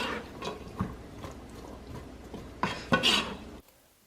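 Spoon stirring chopped onion, celery and carrot in a stock pot over medium heat, a series of close scraping clinks and knocks at an uneven pace, louder near the end before stopping.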